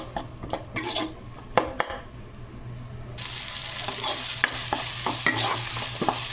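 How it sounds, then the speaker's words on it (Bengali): Brinjal chutney cooked in a generous amount of oil sizzles over medium heat as a spoon stirs and scrapes the pan, with repeated sharp metallic clinks and a hiss that grows louder midway. "এইবার মিডিয়াম হিটে রেখে এটাকে আমি ভালোভাবে কষাতে থাকবো"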